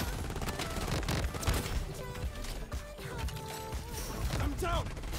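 Gunfire in the Bloodstrike shooter game, including double P90s, comes as dense, rapid overlapping bursts and cracks throughout, with faint voices mixed underneath.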